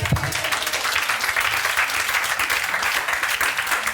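A church congregation in Côte d'Ivoire breaks into steady, sustained applause that fills the room from start to finish, with clapping at a moderate distance and no talking.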